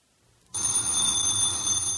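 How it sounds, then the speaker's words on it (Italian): A telephone bell bursts into loud, continuous ringing after a half-second of near silence, steady and close, in an indoor scene from an Italian-language lesson with no talking over it. "È il telefono, vero?"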